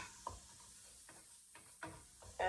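Hot dogs and chorizo fry in a pan, quiet background sizzle broken by several scraping, stirring knocks of a utensil, close and with no speech.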